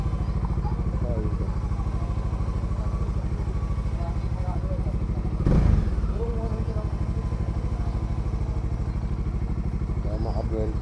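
A Bajaj Dominar 400 motorcycle engine idles with a steady low rumble, close and continuous, with a brief louder burst near the middle and faint voices underneath.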